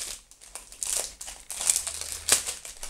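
Plastic bag of cheap costume earrings being opened close by, with crinkly rustling and a few sharper crackles spread over a few seconds, no talk.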